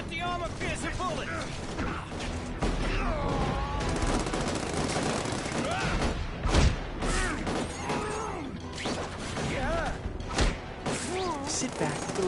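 Enemy gunfire in The Amazing Spider-Man 2 video game: scattered shots and mechanical clatter mixed with loud game effects and voices talking over the action throughout.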